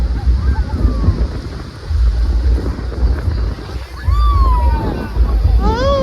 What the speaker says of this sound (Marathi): पाऊस बघा जब्बर पाऊस आहे